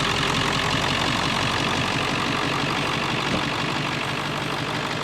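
A 2002 Ford F550 truck engine idles steadily and close up, a constant even rumble with no voices over the whole stretch.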